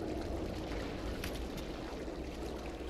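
A character wades into water in Resident Evil 7, giving a steady, continuous sloshing and trickling wash of water that holds at an even level throughout, with no talk.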